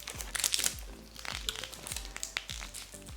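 Plastic wrapping on a Harry Potter mini figure mystery ball is crinkled and worked open up close, giving quiet, repeated crackles and crunches in an irregular rhythm.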